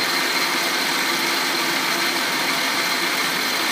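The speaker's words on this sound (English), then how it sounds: "So I turn my lathe on, I lift up my power feed" Metal lathe running with its power feed engaged, a loud, steady motor whir with a dense broadband hum and even mechanical noise, close, unbroken throughout with no talk.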